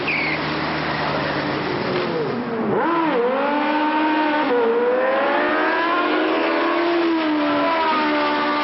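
Speedy motorcycles street racing late at night, engines revving loudly with sweeping rises and falls in pitch as they accelerate and shift past.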